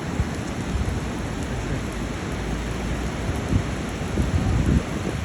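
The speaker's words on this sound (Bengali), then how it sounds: "সাগর আজকে উত্তাল, বৃষ্টি হচ্ছে, সাগর উত্তাল" Rain falls beside a rough sea in Oman, a dense, even rush of water that holds steady throughout, with low rumbling surf or wind underneath.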